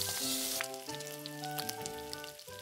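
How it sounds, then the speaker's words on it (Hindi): Chopped garlic sizzles and fries in hot oil for a pan of dry chilli paneer, a steady crackling hiss heard up close with no talking. "चॉप्ड गार्लिक डाल रही हूँ।"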